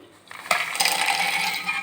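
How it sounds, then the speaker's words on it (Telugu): Raw peanuts poured into a steel mixer jar: a sudden rattling onset, then a close, steady patter of small hard nuts tumbling against metal for a second or so, with no voices. "ఒక మిక్సీ జార్ తీసుకొని ఇందులో పల్లీలు అయితే వేసాను"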